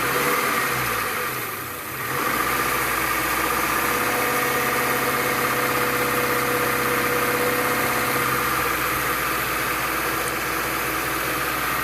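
A Subaru engine holds a steady 2,000 RPM, a continuous near hum with a brief dip around two seconds before settling back into an even drone, no talk.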